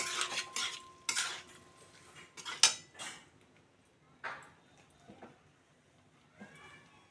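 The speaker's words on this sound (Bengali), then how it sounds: "আমি কচুটা ভালো করে কষিয়ে নেব।" Boiled taro sautés with spices in a pan for a prawn curry, heard as repeated metallic scrapes and clinks of a spatula against the pan over a faint sizzle, loud up close and then sparser.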